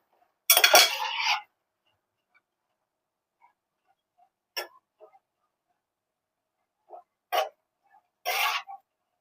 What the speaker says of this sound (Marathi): आता आपण मटकी भाजून घेत आहोत